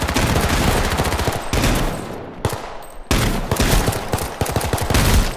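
Rapid automatic gunfire from a battle royale shooter, H1Z1, with dense bursts of shots rattling almost continuously, loud and close, broken by a brief lull midway before the firing resumes.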